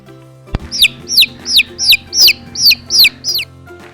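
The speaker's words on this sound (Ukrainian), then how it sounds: "А зараз послухайте маленького курчатка." A small chick peeps loudly and repeatedly, about eight high, sharp downward chirps in an even rhythm, close by, after a brief knock.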